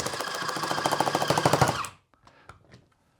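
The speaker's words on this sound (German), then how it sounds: "Schalte jetzt den Loader an." An EMG Autobot electric airsoft speed loader runs for about two seconds, filling a GBB AK magazine with a dense, rapid mechanical rattle. It cuts off abruptly and a few faint clicks follow.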